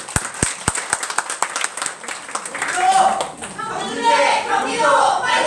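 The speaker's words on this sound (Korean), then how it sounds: "큰 박수로 모시겠습니다" An audience at an HRD contest presentation claps a presenter on stage. A few sharp claps build into fuller applause, with a voice speaking over it.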